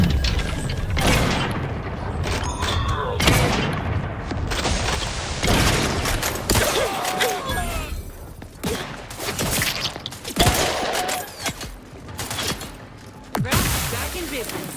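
Grenade blasts and gunfire in a sci-fi shooter battle from Outer Worlds 2, a dense stream of loud booms and sharp cracks at irregular intervals, with mechanical clatter and whooshes between them.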